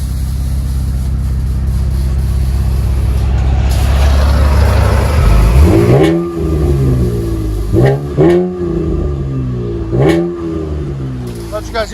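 A 2012 Chevy Camaro 3.6L V6 with a loud aftermarket exhaust: a steady rumble builds into a rising roar, then several sharp, close throttle blips and revs in quick succession.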